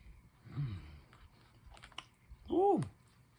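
Chewing on Royal Farms fried food during a mukbang, soft close-up crunches and mouth sounds with a couple of short vocal murmurs, fairly quiet.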